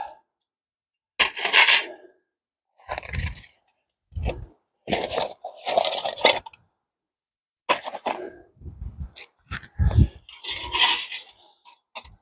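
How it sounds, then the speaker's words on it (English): Metal parts of a Lixada camping stove being handled, with scattered clinks, scrapes and rattles in short separate bursts broken by quiet gaps. "I brought out the Lixada stove"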